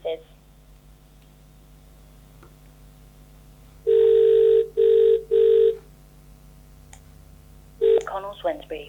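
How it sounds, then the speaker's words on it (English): Telephone dialing tones for a call to a property agent, several loud, clipped beeps in a quick cluster, over a quiet background hum, then a brief tone followed by a voice. "let's just give them a quick call and see if they can tell us any more"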